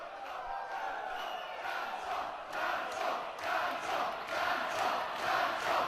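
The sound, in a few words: wrestling crowd chanting for a dance-off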